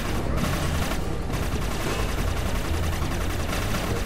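Rapid laser gun fire in the video game Inversion, a dense continuous volley of shots at steady loudness with a busy background of game effects.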